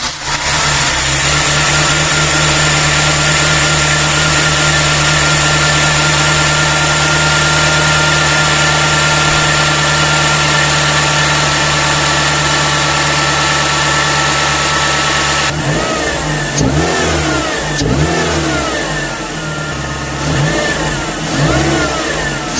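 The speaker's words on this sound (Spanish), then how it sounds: "Ahorita encendió bien el carro." A Nissan Platina car engine runs after a spark plug change, holding a steady loud drone for about fifteen seconds before revving up and down in several rising and falling surges, with no voices.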